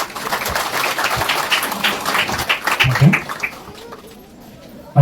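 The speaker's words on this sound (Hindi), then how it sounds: "तो तालियों के साथ हम जो है सर का धन्यवाद।" An audience at a Catholic church opening ceremony claps in thanks, a moderately loud, slightly uneven applause with some background voices, tapering off toward the end.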